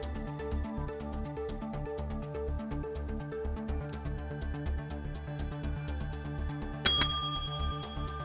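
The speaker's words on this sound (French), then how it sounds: "Coup de sonnette dès que vous trouvez." A bell used as a quiz buzzer rings once with a sharp, bright ding that hangs on briefly, close by, after several seconds of quiet background music.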